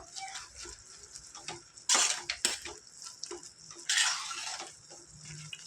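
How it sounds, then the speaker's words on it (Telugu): Gongura leaves and tomato cooking over high heat, stirred in a pan with a spoon, giving irregular scraping clinks and sizzle with a few sharper knocks against the metal, close by and without talk. "ఈ విధంగా హైలో పెట్టుకొని దీన్ని చక్కగా ఇలా కలుపుకుంటూ ఉడికించుకుందాం"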